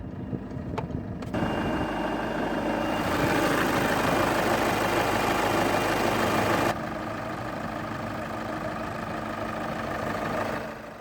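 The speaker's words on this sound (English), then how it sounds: "This Tiguan is powered by a 2-liter, dual overhead cams, 16 valves, turbo diesel inline 4-cylinder engine." Engine of a 2009 Volkswagen Tiguan with a 2-liter turbo diesel inline four-cylinder idling under an open hood, a steady loud rumble that swells for several seconds and then settles to a lower, even idle.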